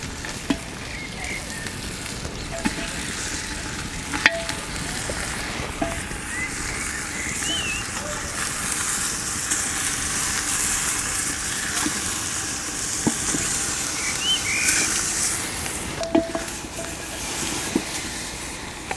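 Lamb shanks sizzle and fry steadily in a clay pot outdoors with whole spices including cloves, cardamoms, black cardamoms, Kashmiri chilli, cinnamon and black pepper, a continuous crackling hiss with occasional small pops and clinks.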